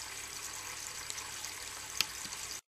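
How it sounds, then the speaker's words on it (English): Steady hissing rush of water flowing into an AEG washing machine on its rinse cycle, with faint sloshing and a brief click near the end before it cuts off. "You can hear the water coming in."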